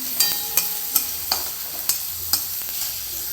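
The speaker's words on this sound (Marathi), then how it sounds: "याला छान असं तळून घेऊ म्हणजे याचा तिखटपणा थोडासा कमी होईल" Green chillies and garlic fry in a pan for ridge gourd thecha, a steady close sizzle broken by regular sharp spatula scrapes about every half second, with no voices.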